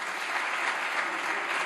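Sustained applause in the Spanish parliament chamber during a plenary session, a dense, steady clatter of many hands clapping at once with no break and no voices rising above it.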